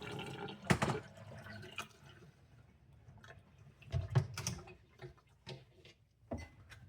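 Water being dumped out of a container from a homemade emergency filtration setup, heard as two splashy bursts with scattered drips and trickles between them, fairly quiet and with no voices.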